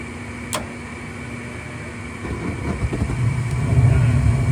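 Steady motor hum of a furnace inducer running while the unit calls for heat, a low continuous drone that builds slightly louder toward the end, with no talk over it.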